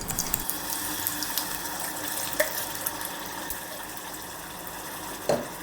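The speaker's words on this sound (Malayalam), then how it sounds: "അതിലേക്ക് നമുക്ക് കുറച്ച് ശർക്കര പാനി ഒഴിച്ചു കൊടുക്കാം" Jaggery syrup pours into melted ghee in a pan, a steady continuous liquid rush and trickle with a faint sizzle, ending in a brief louder splash near the close.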